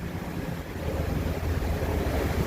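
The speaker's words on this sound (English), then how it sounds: "very relaxing just walking past the waterfalls at Mirage" Steady rushing roar of the waterfalls at the Mirage on the Las Vegas Strip, a continuous broadband wash heard fairly near with no talking.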